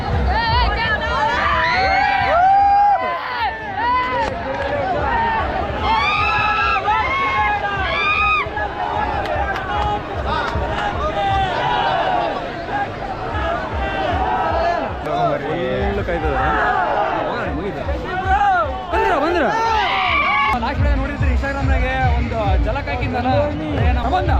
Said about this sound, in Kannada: ಇವಾಗ ಕ್ರೌಡು ಇಷ್ಟೇ ಕ್ರೌಡ್ ಇದೆ ನೋಡಿ